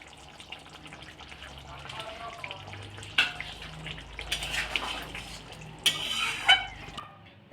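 Flour-based vegetarian curry simmering with water in a pan bubbles and sizzles softly throughout, with a few louder stirring scrapes and splashes partway through.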